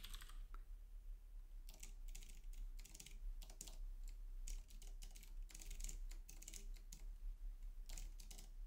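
Steady bursts of quiet computer keyboard typing, fast clicky keystrokes in uneven clusters with short pauses, close and alone over a faint low hum, while a template is entered during work on deobfuscating JScript and JavaScript malware.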